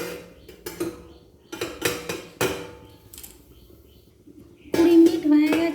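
A metal lid set back on a cooking pot of nolen gur rosogolla, with several close, ringing clanks and clatters, followed by a voice at the end.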